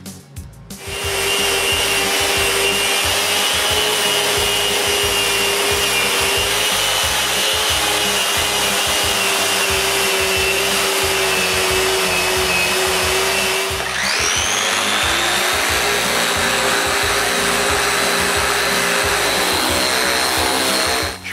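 A power sander works wood panels for a nine-drawer dresser down to 220 grit, a loud continuous whirring hum with rubbing friction, briefly pausing and restarting partway through.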